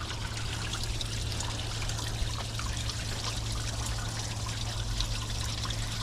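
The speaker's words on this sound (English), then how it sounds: "water coming down the hose?" Water steadily trickles and streams from a hose while a forklift radiator is flushed, a continuous wash of close, even liquid noise over a low mechanical hum, with no voices.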